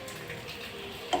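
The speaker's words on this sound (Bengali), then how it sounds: "এবার আমি বড়িগুলো খুব ভালো করে ভেজে নেব।" Lentil dumplings (bori) fry in oil in a wok with a soft, steady sizzle, close but fairly quiet, ending with a brief clink.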